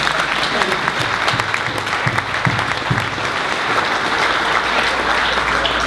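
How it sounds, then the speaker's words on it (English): Steady audience applause fills a keynote session at a summit, dense and continuous throughout with a few brief vocal bursts mixed in. "Let's give her a applause."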